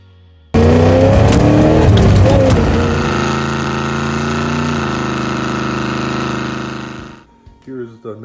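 A 1979 Pontiac Firebird with a small block Chevy V8 and a freshly rebuilt carburetor cold-starts with a loud catch and revs, then settles into a steady, rumbling high idle close by for several seconds before cutting off.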